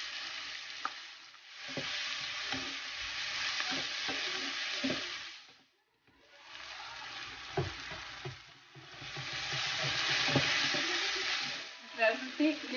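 Tomatoes and carrots fry in a pan with a steady broadband sizzle, interrupted by a brief pause, while a utensil stirs and scrapes in irregular knocks close by; faint speech may sit underneath.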